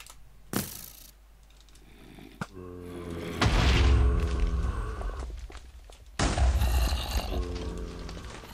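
TNT cannons firing in a Minecraft wool-capture match, heard as a sharp blast followed by two longer, heavier booming explosions with crackling debris, loud and close with no talk.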